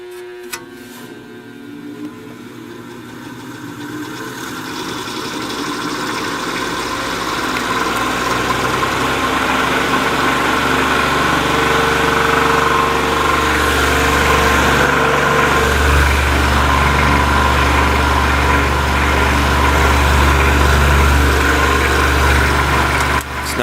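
A 1950s Patton electric fan motor runs rough and overheated, struggling below its proper speed, giving a steady loud hum with a rattling vibration that builds slightly over the first few seconds and then holds constant.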